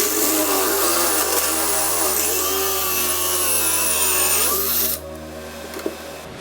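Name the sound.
power drill boring through a door for a deadbolt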